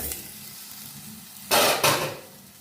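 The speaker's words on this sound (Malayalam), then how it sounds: "ഇപ്പം ചൂടായ മൺചട്ടിയിലേക്ക് നമ്മൾ ഈ മുറിച്ച് വെച്ചിരിക്കുന്ന ഉരുളക്കിഴങ്ങ് ഇട്ട് കൊടുക്കുക." Quiet background, then a sudden loud hiss as cut potatoes hit a hot clay pot, sizzling in two strong bursts up close.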